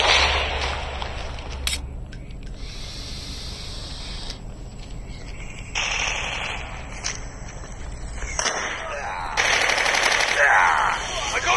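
Gunfire in the mobile shooter video game Call of Duty Mobile, several bursts of rapid automatic fire set among mechanical clicks and game effects, with short gaps between volleys and a voice heard faintly.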